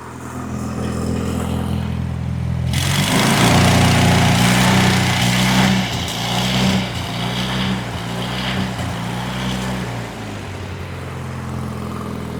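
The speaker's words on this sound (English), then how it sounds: "not running right at high idle. It's just it's surging." An Onan Performer 16 engine driving a Lincoln Ranger 8 welder, running rough and surging at high idle after starting up: a loud, uneven engine drone that swells and dips in repeated waves, heard on its own.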